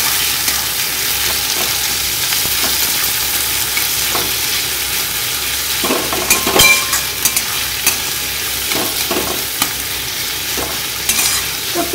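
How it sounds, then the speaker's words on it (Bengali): Whole onion slices frying in a pan for crisp browning, a steady soft sizzle running throughout with occasional sharp clicks and scrapes of stirring, close and fairly loud, no voices. "তো এবার আমি পেঁয়াজটা ভেজে নেব।"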